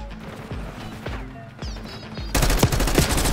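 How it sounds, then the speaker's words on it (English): Gunfire in the Black Ops 6 video game: several sharp separate shots crack through the first seconds, then a dense, loud rattling burst of rapid fire takes over for the final second. "I'm just getting shot from everywhere."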